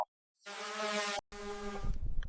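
A small drone buzzes close by in the wilderness, a steady high whine with a stacked tonal hum that cuts off for a split second, then returns and roughens as it wavers.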